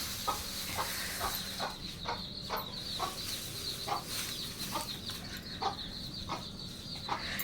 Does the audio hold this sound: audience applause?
no